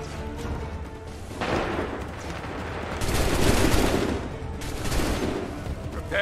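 Gunfire volleys in Assassin's Creed III, bursts of crackling shots rising around the one-and-a-half and three-second marks, loud and dense, with shouted voices in the battle.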